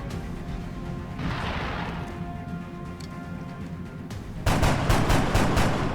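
Enemy gunfire in XCOM: Enemy Within plays as a steady rumble of combat, then erupts into a loud, rapid burst of repeated gunshots in quick succession toward the end.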